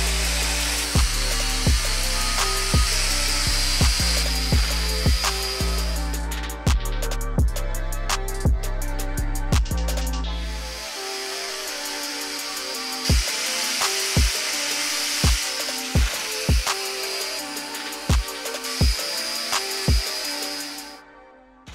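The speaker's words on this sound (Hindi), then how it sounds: "अब यहाँ पर इसको घिसाई कर देंगे जहाँ पर हमने वेल्डिंग की थी" A power grinder smoothing welds and rust off a homemade steel adjustable wrench, a steady loud whirring grind with a regular rhythm of sharp ticking contacts, shifting in pitch as pressure changes.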